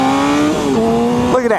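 A Honda CBR600RR sport motorcycle from the 2007–2012 generation revs up from idle with a rising engine whine and then shifts as it pulls away, heard close and loud while someone talks over it.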